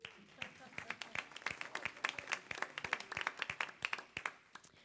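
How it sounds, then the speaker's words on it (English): A church congregation claps in scattered, uneven bursts, moderately near, sharp claps at varying rhythm building across the moment. "Somebody start clapping."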